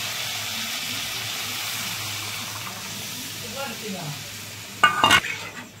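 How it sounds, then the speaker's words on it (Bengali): A low, steady sizzle from sautéed coriander chicken in a pan, then a brief, loud splashing burst as water is poured in near the end before the sound settles. "এবার আমি জল দিয়ে দেবো।"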